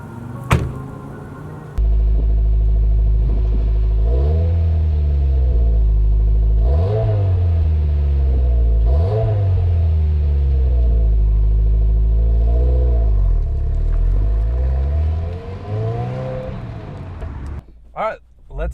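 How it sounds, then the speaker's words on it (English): A 2022 Subaru WRX driving on a canyon road near Boulder, Colorado, its engine a loud steady drone that rises and falls in repeated revving swells through the gears, close and continuous throughout. "let's take the WRX for a drive"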